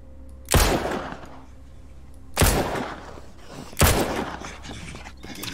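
Three loud pistol shots fired at zombies in the survival game Mist Survival, spaced about one and a half seconds apart, each a sharp crack with a short rumbling tail, and no talking over them.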